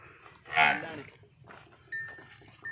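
A water buffalo on a dairy farm gives one loud, close low moo, followed by quieter farmyard noise and a brief electronic beep near the end.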